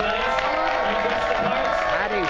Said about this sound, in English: round of applause for these guys right here